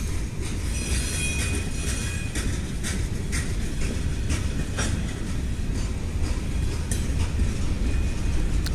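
A train rolls past, picked up faintly and harshly through a lo-fi web cam, a steady broadband rumble with faint wheel squeal and clatter running throughout, no talking.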